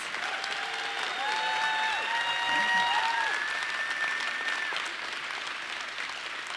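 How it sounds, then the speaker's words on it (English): An audience applauds at a city's State of the City address, a continuous, even wash of clapping from a large indoor crowd, moderately distant and without talk. "Let's give her a round of applause."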